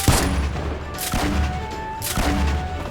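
Fortnite Battle Royale gunfire comes in three heavy bursts about a second apart, dense and booming with a low rumble, with no speech.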